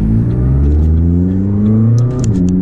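The engine of a McLaren 600LT revs loudly and continuously from the cabin while driving, a deep rising and falling drone with crackles near the end.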